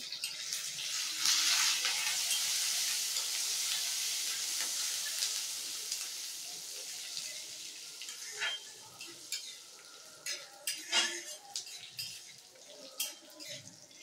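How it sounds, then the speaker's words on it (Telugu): Curry leaves sizzling in hot oil, a loud broad hiss that slowly settles, with scattered crackles and pops and light stirring clatter toward the end. "కొద్దిగా కరివేపాకు కూడా వేసేస్తున్నాను."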